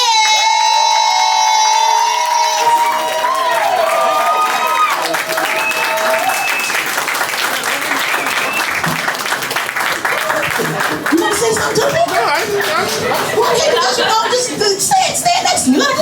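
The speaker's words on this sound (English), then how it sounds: "I want you guys to clap it up for your winner tonight." A poetry slam audience applauds and cheers for the night's winner, a loud sustained wash of clapping with whoops and shouts, while a voice at the start is partly buried in the crowd.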